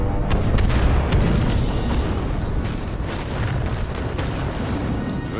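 Blaster fire against an AT-ST walker in Star Wars Battlefront 2, a dense roaring barrage of booms and sharp shots layered continuously, loud and close with no clear talk.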